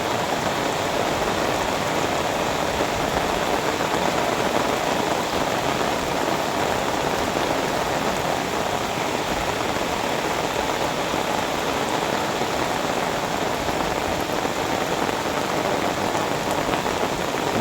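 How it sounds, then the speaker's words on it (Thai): Steady, dense rainfall pattering on surfaces in a chili and eggplant garden, a continuous even hiss with no pauses or voices. "ตอนนี้ฝนกำลังตก"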